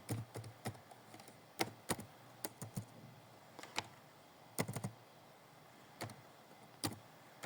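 Keys on a computer keyboard clatter in irregular bursts of sharp clicks, some in quick clusters and some spaced apart, while Python code is typed in a quiet room.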